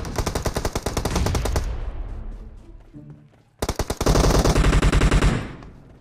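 Rapid automatic gunfire in the mobile game PUBG Mobile with M249 and M416 rifles, two loud sustained bursts of fast shots separated by a brief lull with fading echo.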